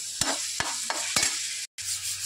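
Onions with salt stirred in a frying pan for dhaba-style egg bhurji, a soft continuous sizzle broken by four distinct spoon scrapes and a brief cut of silence near the end.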